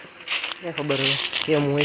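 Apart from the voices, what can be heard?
dry fallen leaves rustling underfoot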